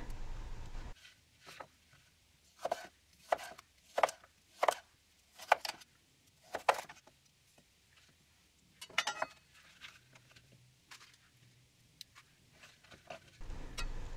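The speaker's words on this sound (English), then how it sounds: "I'm chopping up an orange and an apple to add to the salad" A knife chops an orange and an apple for a salad, landing as a series of sharp, close, quiet knocks on a cutting board in an irregular rhythm with pauses between bursts.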